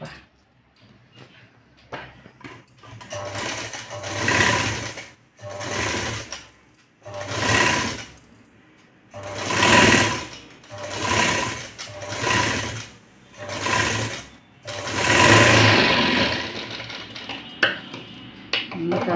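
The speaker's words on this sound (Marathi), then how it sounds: "आता इथं शिवून घ्यायचं आहे" Sewing machine stitching a canvas neck strip onto a blouse neckline, running in about seven steady bursts of a few seconds each with short pauses between, close and fairly loud, with no talk.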